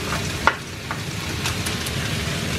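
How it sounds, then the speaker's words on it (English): Shrimp and rice noodles are stir-fried in a pan for a Filipino bihon dish, giving a steady close sizzle with a few clinks and scrapes of stirring and no talk. "That's why it's a stir fry"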